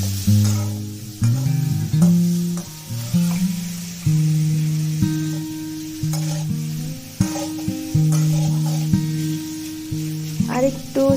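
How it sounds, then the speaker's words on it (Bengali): Garlic paste frying in hot oil for a village-style pumpkin and poa fish curry, giving a continuous loud sizzle with repeated scraping stirs and rhythmic clattering of a spatula against the pan. "সামান্য একটু রসুন বাটা দিয়ে দিয়েছি।"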